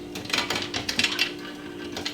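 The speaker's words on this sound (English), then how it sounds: "Okay, so we got the simple slider type lock here." A simple slider-type lock being fitted to a reptile enclosure, heard as a run of light metallic clinks, taps and small scrapes close by with a steady hum underneath and no talking.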